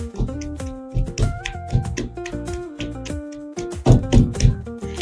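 Garlic, green chillies and cumin are pounded coarsely in a stone mortar, giving a run of close, sharp thuds in an uneven rhythm with short gaps between strikes, loud and clear, and no talk.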